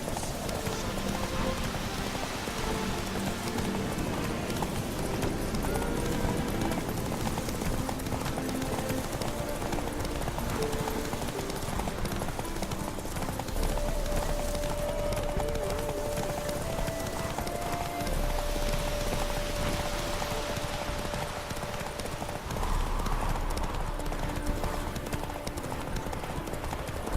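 The horse Roach gallops through rain in The Witcher 3, steady rapid clip-clop hoofbeats over a constant rain wash, with occasional whinnies and a low game soundtrack underneath.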